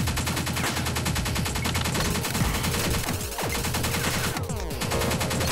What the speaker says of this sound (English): Ooh, an ocular camera thing shooting at me.